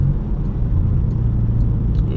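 A BMW 320i Sport 2.0 from 2016, Stage 2 tuned with an 8-speed ZF gearbox, gives a steady loud low engine drone and road rumble from inside the car, with no clear break for a shift.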